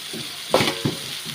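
Meat frying in a pan with turmeric, cumin and coriander powder, a soft steady sizzle with a couple of louder stirring scrapes, close and without talk.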